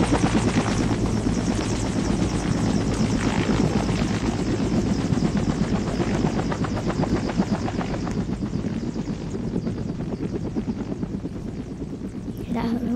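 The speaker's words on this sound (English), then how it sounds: "That helicopter's turning off." A test helicopter's engine and rotor drone loud and steady with a dense, rapid chopping throb that carries on without a break, no voices audible over it.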